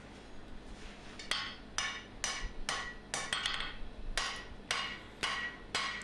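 A flat-faced English cutler's hammer strikes a steel knife blade being forged from round stock, about a dozen sharp ringing blows in an uneven rhythm, close and clear with no talking.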